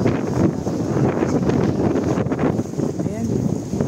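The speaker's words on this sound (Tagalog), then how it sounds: "Ganito kalakas ang hangin." Strong wind during a dust storm in Kuwait roars as a loud, steady broadband rush buffeting the microphone for the whole stretch, with a voice faintly present at moments.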